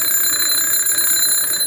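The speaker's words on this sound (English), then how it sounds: "This bell makes a sound like this." An electric alarm bell rings continuously and loudly at close range, a steady metallic clatter with no break and no voices.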